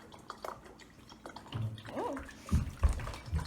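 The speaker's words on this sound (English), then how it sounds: "That makes it splash around up top." Water sloshes and splashes inside a bottle shaken side to side while making a tornado vortex, with irregular bursts of gurgling, and a voice speaks quietly alongside.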